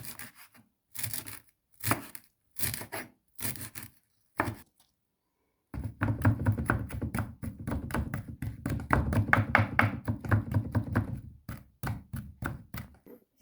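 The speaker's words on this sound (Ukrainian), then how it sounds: "Дрібнесенько нарізуємо пучечок кроку." A bunch of dill finely chopped on a board with a knife, first a few separate thuds, then a fast, dense run of rhythmic chopping close by, with no voice over it.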